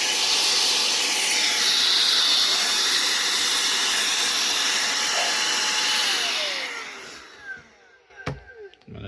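An air assist blows a strong, steady hiss of air onto a silicone mold for a small devil figure, loud and close for several seconds before cutting off into a few faint clicks.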